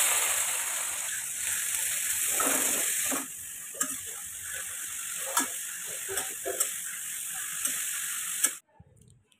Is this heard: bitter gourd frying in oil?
yes